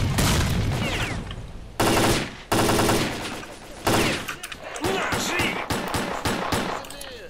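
Bursts of automatic gunfire and explosions in the shooter video game S.T.A.L.K.E.R. Clear Sky, with loud rapid volleys, a few abrupt cutoffs and scattered single shots trailing off toward the end, heard close with no talking.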